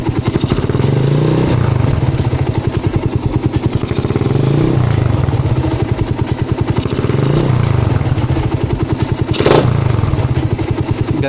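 A Honda Raider 150 motorcycle fitted with an APIDO exhaust pipe and silencer revs loudly and close by. Its rapid pulsing engine rumble rises and falls over several throttle blips.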